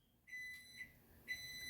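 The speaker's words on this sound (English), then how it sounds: "Uh-oh, you hear that beeping?" A fire alarm gives a few quiet, evenly spaced electronic beeps in an otherwise still room.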